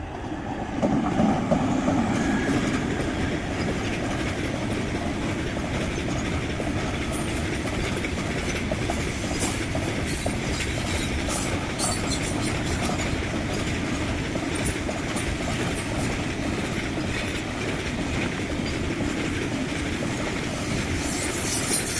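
A train rolls steadily across a railway bridge spanning a road, a continuous loud rumble with faint clatter from the wheels and cars, sustained throughout with no talking.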